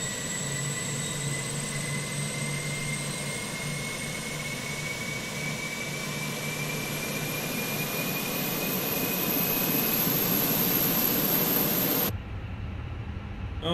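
An airliner's auxiliary power unit spooling up in a flight simulator game, a steady loud turbine roar with a rising whine that climbs for about twelve seconds and then cuts off abruptly.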